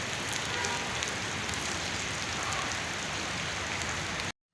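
A downpour of heavy rain falls continuously, a thick even hiss of drops striking surfaces nearby, sustained for several seconds before cutting off abruptly at the very end.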